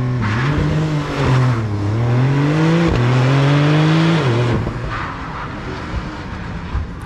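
Porsche 911 Turbo S Cabriolet, 992.1 generation, roars hard through several rising gear-change sweeps during a full 0–100 launch, then the engine note drops away as it brakes sharply to a stop, loud and close.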